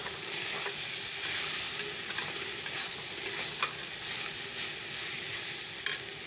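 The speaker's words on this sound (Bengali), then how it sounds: "চাল কুমড়া ভাজাটা হচ্ছে," Ash gourd frying in a pan gives a continuous soft sizzle and crackle, with faint scattered clicks and a sharper tap near the end, no voices.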